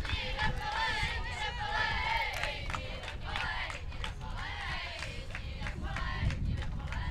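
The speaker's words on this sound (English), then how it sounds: "they continue with their chanting and their cheering" Joudrs U-19 softball team chanting and cheering in a steady, sustained group chorus at the 2018 London Cup game against Great Britain U-19, with crowd noise underneath.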